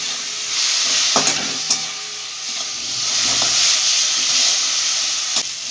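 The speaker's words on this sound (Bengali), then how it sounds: "মশলাটা ভালো করে কষাবো" Spice paste seasoned with salt being sautéed in a pan: a continuous close sizzle broken by a few sharp clacks of a spoon stirring against the pan.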